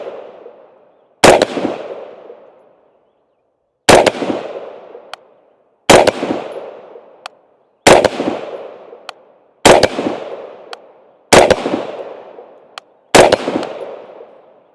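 Seven rifle shots firing 55 grain rounds from a 20-inch chrome-lined barrel, each a sharp loud crack with a short rolling echo, spaced about two seconds apart outdoors.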